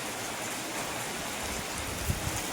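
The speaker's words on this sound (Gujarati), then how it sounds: "તોફાની વરસાદ આવ્યો છે" Heavy stormy rain with wind, a dense steady hiss of falling water with a low rumbling undertone, continuous and enveloping with no voices.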